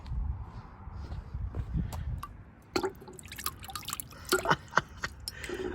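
A hot cast aluminum auger is plunged into water, giving scattered drips, splashes and sizzling spurts that come close and irregular, with quieter gurgling between.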